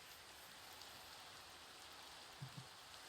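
Rain falls in the video game Minecraft, a soft, steady hiss of drops with a couple of faint low thumps, heard alone and quietly.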